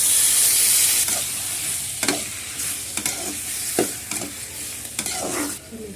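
Tomatoes added to softened onions fry in a hot pan with a steady loud sizzle and hiss, while a spoon stirs and scrapes at intervals during the cooking of a pakkarkai kuzhambu.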